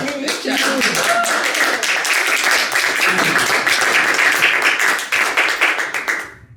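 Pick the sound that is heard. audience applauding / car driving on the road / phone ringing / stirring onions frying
audience applauding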